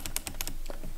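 Quick bursts of typing on a computer keyboard, five or six crisp key clicks in rapid succession followed by a couple of softer presses, close and moderately quiet with no voice.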